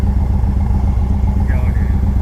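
A 2015 Victory Vegas 8-ball motorcycle idles with a steady low, loping engine rumble, close and continuous throughout.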